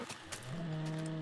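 A Minecraft cow gives a single drawn-out moo that rises slightly in pitch and holds steady, close and clear, with no talking.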